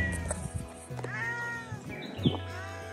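A pet cat meows several times close by in a villa during a weekend stay in Lonavala, with drawn-out, rising and falling cries while people talk quietly in the background.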